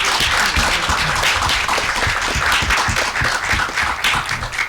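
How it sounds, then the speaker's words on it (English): An audience at a college education-program event applauds its panelists with a loud, dense burst of clapping from many hands, sustained and even for several seconds without speech. "How about a round of applause for our panelists?"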